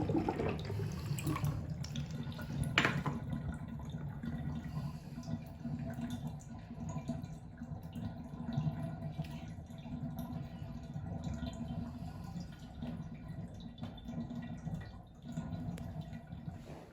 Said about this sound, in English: once I drain all the water